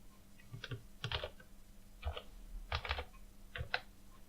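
Close keystrokes on a computer keyboard while entering a spreadsheet formula, several quick clustered taps with brief pauses, quiet and alone.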